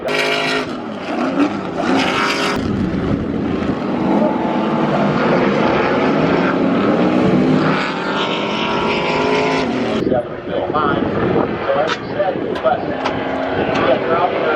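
Stadium Super Trucks racing at Circuit of the Americas (COTA), engines roaring loudly and continuously as the trucks pass near, with a sharp drop and fresh surges of engine noise toward the end.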